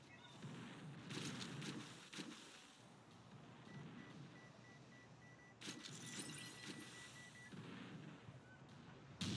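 Weapon fire in the Roblox game Destruction Simulator: a string of low, rumbling booms and blasts over a continuous noisy game background, fairly faint, with no voice.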